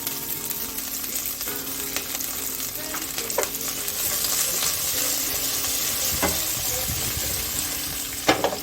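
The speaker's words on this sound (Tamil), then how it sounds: "இதை லைட்டாக ஃப்ரை பண்ணிக்கோங்க." Cinnamon, bay leaf, curry leaves and fennel sizzle in hot oil in a pan, with a steady crackling fry stirred now and then, and a couple of sharp pops near the end.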